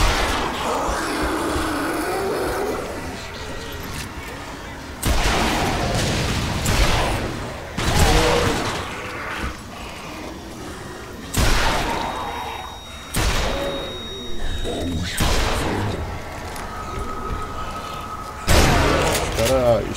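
Gunfire in the video game Zombie Army Trilogy: repeated loud bursts of shots and booms at irregular intervals, with someone talking over the action.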